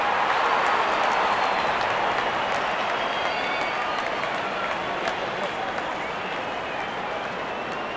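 A large stadium crowd in the Real Cricket video game roars and cheers continuously, a dense, steady wash of noise at constant loudness throughout.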